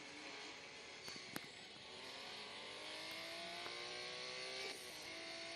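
Race car engines in the mobile racing game Real Racing 3 rev and climb through the gears, holding a steady, moderately quiet whine with a couple of sharp clicks, with no talking.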